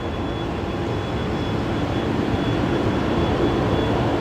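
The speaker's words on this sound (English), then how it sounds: "A330 300 of Fiji coming in next" Steady broadband roar of a Fiji Airways Airbus A330-300 arriving on the runway at Brisbane Airport, a constant loud rumble with a faint high tone and no clear rise or fall over a few seconds.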